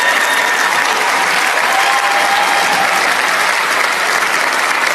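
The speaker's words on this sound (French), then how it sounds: "Merci d'applaudir notre mascotte." A hall audience applauds the mascot at an event, with dense, steady clapping that stays loud and continuous for the whole stretch, with no voice over it.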